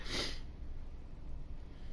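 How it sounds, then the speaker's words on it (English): A single sharp sniffle or snort at the start, close and moderately loud, followed by quiet room noise. "Sorry for the sniffles and stuff."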